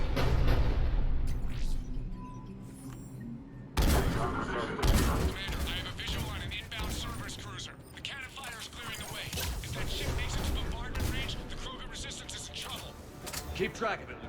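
Cannon blasts and gunfire in the Mass Effect video game, Legendary Edition, with a heavy boom about a third of the way in and dense, loud battle noise throughout, and voices talking over the fighting.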